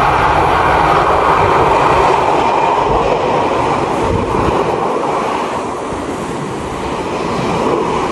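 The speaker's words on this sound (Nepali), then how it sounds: "ट्रेन आएको पुरै हल्लाखोर गर्छ" A local train in Japan rushes past close by, filling the air with a loud, continuous rumble and rattle for several seconds with no voices.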